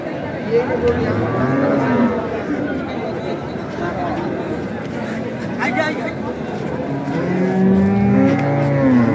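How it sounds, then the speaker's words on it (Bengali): Dairy cows, Sahiwal, Sindhi and local breeds, moo repeatedly at the busy Ambari cattle market in Dinajpur district, heard amid steady crowd chatter, people talking and a passing vehicle engine. "দিনাজপুর জেলার আমবাড়ি হাটে যে গাভী গরুগুলো প্রায় বিক্রয় করা হচ্ছে"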